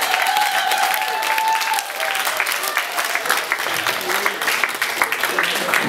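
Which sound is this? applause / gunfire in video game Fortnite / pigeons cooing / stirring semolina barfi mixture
applause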